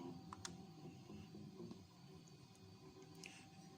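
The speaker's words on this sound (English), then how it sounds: "Sorry for getting a noise in the background. My 3D printer is slowly building Oscar a Mario pipe pencil holder" A 3D printer runs with a faint mechanical hum, soft whirring and occasional light clicks, working quietly in the background with no voices.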